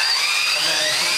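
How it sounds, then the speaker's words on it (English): A power drill whines at high speed while pre-drilling holes to hold down a box on a custom build, a steady close buzz lasting about a second with no voices. "we'll pre-drill the rest."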